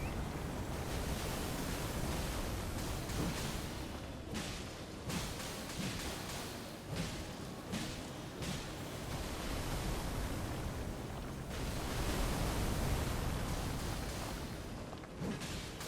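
Steady broadband hiss like heavy rainfall from a rain spell in the video game Elden Ring, continuous and fairly loud throughout with slight surges, no voices.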